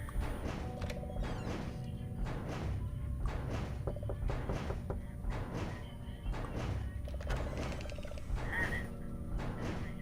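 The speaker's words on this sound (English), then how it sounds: "The dryer's running at the moment." A clothes dryer in a laundry room of a Goosebumps video game tumbles on and on with repeating rhythmic thumps, creaks and mechanical clunks, fairly faint and steady.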